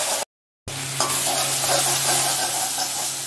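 Jute leaves stir-fry in a pan with a few pinches of salt, a steady close sizzle with a low hum and soft scraping as they are tossed, after a brief dropout at the start and with no talking.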